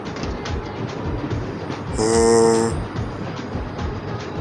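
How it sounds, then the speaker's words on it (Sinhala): A train horn from The Walking Dead video game sounds once, a loud sustained multi-tone blast of about half a second over a steady rumbling bed of game ambience. "You need to stop the train."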